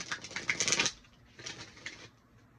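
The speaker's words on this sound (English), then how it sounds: "Okay, one more shuffle." Tarot cards being shuffled by hand, a quick riffling flutter followed by softer patting and a second brief shuffle, close and fairly quiet with no talk.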